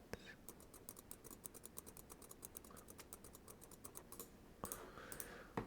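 Rapid, quiet typing on a computer keyboard, a steady run of close, light key clicks with a couple of louder presses near the end, faint whispered speech in the background.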